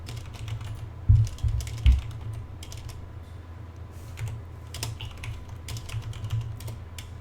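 Rapid typing on a computer keyboard, a close, irregular run of light key clicks continuing throughout, with a few heavier thumps early on and a low steady hum underneath.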